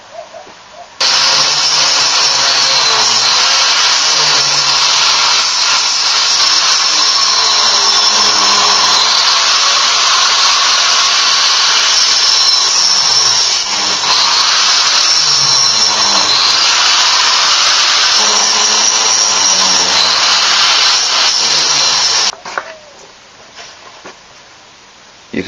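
Angle grinder cutting through a metal security cage being made into a hog trap, a loud continuous high-pitched screech and whine that holds for about twenty seconds with slight wavering, then cuts off abruptly.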